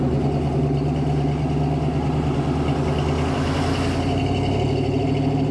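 Road traffic heard from inside a 1979 Chevrolet K10 pickup, the truck's own engine rumbling steadily and close, with passing vehicles blending into a constant low drone and no voices.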